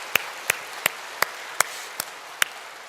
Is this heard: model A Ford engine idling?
no